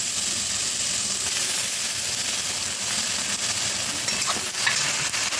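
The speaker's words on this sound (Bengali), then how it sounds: "এবার মশলাটাকে আমি কষিয়ে নেব।" Spice paste of garlic, ginger and tomato being stir-fried, a dense continuous sizzle with scattered scraping and clicking stirs, close and steady with no talk.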